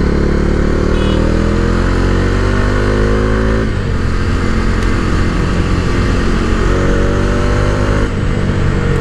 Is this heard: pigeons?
no